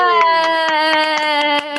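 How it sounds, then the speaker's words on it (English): On a children's online video call, a sustained sung or crying-like tone holds loud and close while a string of single claps lands roughly every quarter second beneath it. "And a big clap for Baden Prince."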